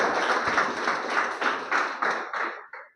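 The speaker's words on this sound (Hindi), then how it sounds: "जोरदार ताली होनी चाहिए सर के लिए" Applause for a speaker at an indoor health presentation, a loud burst of many hands clapping that comes in rhythmic surges and then tapers off into silence.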